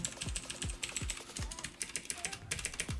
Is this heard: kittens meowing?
no